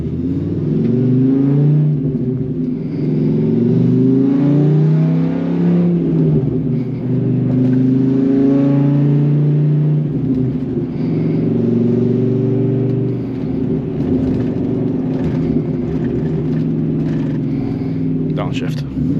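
A 2006 Dodge Ram SRT10 Viper truck's engine pulls hard on a test drive, a loud continuous mid-pitched drone rising and falling through gear changes for nearly twenty seconds.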